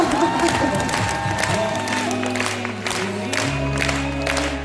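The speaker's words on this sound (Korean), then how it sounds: "앞에가 제일 많이 치고 있습니다" A seminar audience keeps clapping and cheering, broad sustained applause mixed with scattered whoops and crowd noise, while a low musical tone runs underneath.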